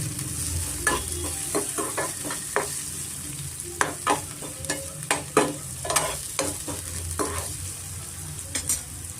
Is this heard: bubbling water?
no